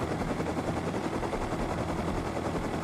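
A video game helicopter hovering with a steady, dense rotor drone, continuous and fairly loud, with a rapid chopping texture and no talk over it.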